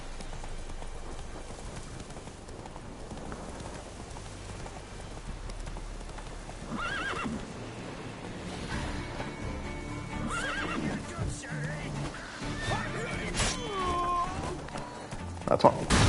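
A horse in The Witcher 3: Wild Hunt gallops with steady hoofbeats and gives a whinny, with rain falling and game effects in the background, fairly loud and close.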